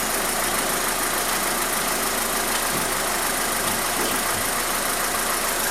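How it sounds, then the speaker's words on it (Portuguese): Cold 1.6 8v engine of a VW Spacefox idling, a steady, even mechanical hum with constant broadband noise and no voices. "Motor frio, tá?"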